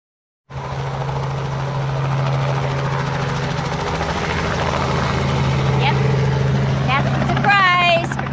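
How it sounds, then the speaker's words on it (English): A sightseeing helicopter near Mount Rushmore roars in and drones steadily up close, engine and rotor loud and continuous, with a few brief voice-like chirps near the end. "Going on a helicopter ride."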